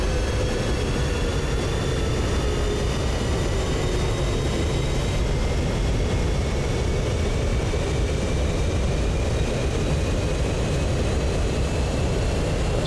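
An F-15C jet taxiing in the DCS World flight simulator, a loud continuous engine roar and whine holding steady with faint shifting tones, no voices.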